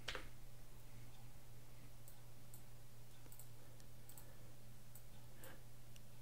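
Faint, light clicks of a computer keyboard and mouse on a Linux desktop, a handful of short ticks spread out over a low steady hum.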